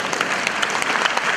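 A stand-up comedy crowd at a New Year's show in Macedonia applauds in a steady, even wash of clapping heard from within the room, with no talking over it.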